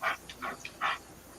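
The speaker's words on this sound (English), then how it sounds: "That's just a dog on the phone" A dog barking over a phone, several faint, thin, small-sounding barks in an uneven burst, quiet and tinny as if from a distant speaker.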